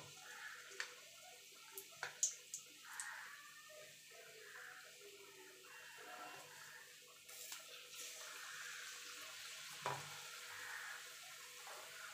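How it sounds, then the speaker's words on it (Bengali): Batter-dipped eggs fry in hot oil in a kadai with a soft, continuous sizzle. Faint clicks and stirring taps surface now and then. "এইভাবে দিয়ে আমি সব ডিমগুলো ভেজে নেব।"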